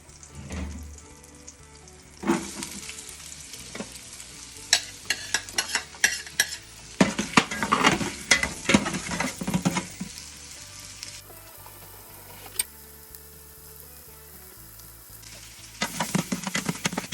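Onion frying in bacon drippings while being stirred, with bursts of loud crackling sizzle and scraping strokes that come and go between quieter stretches of low bubbling, close up and without speech.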